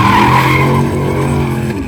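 A truck engine being tuned with a new engine, jumping gears: a loud, sustained, close revving roar with strong harmonic tones that dip slightly in pitch partway through, no voices.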